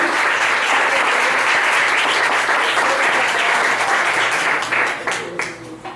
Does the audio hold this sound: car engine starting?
no